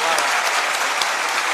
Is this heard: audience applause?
yes